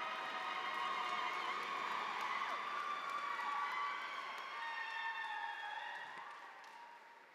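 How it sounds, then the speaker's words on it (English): A commencement audience applauds and cheers from a distance, a steady wash of clapping with scattered shouts, fairly faint and fading slightly toward the end. "Let's give her a hand."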